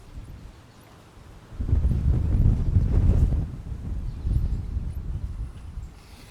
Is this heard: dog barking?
no